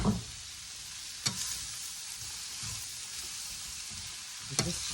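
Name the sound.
stirring mushrooms and chicken frying in avocado oil in pan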